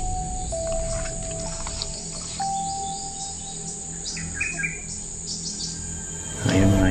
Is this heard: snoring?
no